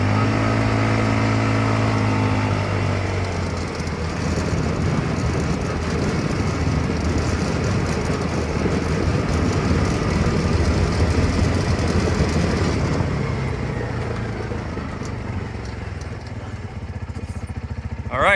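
A Polaris RZR UTV engine drones loudly and steadily while climbing and descending steep banks, with rough rumbling and tire noise throughout, easing slightly near the end.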